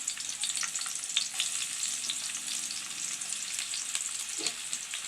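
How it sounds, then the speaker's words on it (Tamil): A large thinly sliced onion sautés in hot oil in a pan, producing a continuous, even sizzle with a few soft stirring scrapes, close and moderately loud, without speech. "இப்போ இதை நல்லா வதக்கிக்கலாம்"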